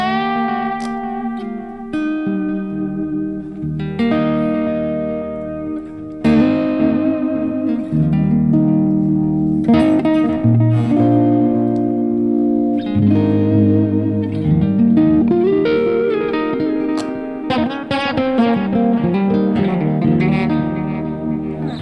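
Electric guitar played continuously through an effects pedal, notes repeating and trailing off in echoes that blend into a lush, ambient wash.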